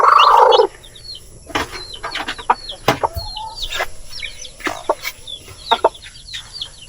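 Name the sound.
chicks clucking on a small farm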